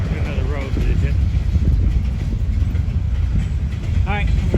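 A freight train on the Norfolk Southern line at Kenova, West Virginia, its last cars rumbling past under a bridge, a loud steady roar with wind noise on the microphone and faint squeals of wheels.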